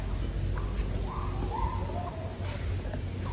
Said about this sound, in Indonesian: Itu sepertinya suara mangki ya